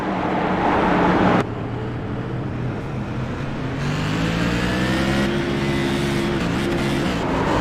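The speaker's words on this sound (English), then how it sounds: "You just hear the revving of the motor." A race car at New Smyrna Speedway revs its motor while stuck out of gear, loud and close, the engine pitch rising and holding in sustained surges with no talk.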